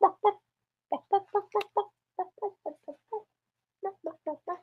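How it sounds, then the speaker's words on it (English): A chicken clucks in a quick series of short, distinct calls, some grouped in bursts and separated by brief pauses, clear and close against silence. "Okay, so chicken."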